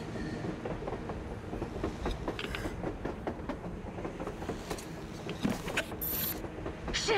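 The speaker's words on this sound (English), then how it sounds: "A damn train on the surface!" A train running on the surface in the video game Metro Exodus rumbles with rhythmic mechanical clanking and rattling wagons, heard at a moderate distance without speech.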